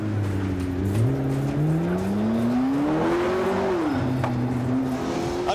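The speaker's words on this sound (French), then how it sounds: "c'est exactement le bruit que produit ce V8 biturbo" A McLaren MP4-12C's twin-turbo V8 drones loud and close, its pitch climbing steadily under acceleration, then dropping back and settling, with no talk over it.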